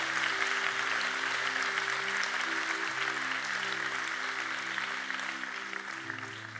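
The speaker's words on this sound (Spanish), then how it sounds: "Un aplauso a Dios" A church congregation applauds during a Spanish-language sermon. Soft, continuous clapping spreads across the room over sustained keyboard chords, with no voices above it.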